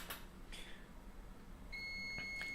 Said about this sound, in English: My multimeter keeps yelling at me.